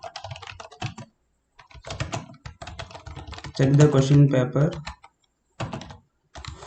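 Quick, close clicking of a computer keyboard as text is typed into an exam question paper in MS Word, mixed with a person speaking.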